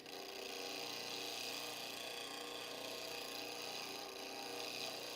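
A grinder motor runs steadily while a skew woodturning tool is sharpened against the wheel, producing a faint, continuous high hum and hiss with no break or voices.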